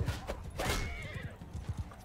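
Horse hooves clip-clop in a steady, uneven patter during a Mount and Blade II: Bannerlord battle, with a brief neigh rising over the middle of the hoofbeats and game noise around it.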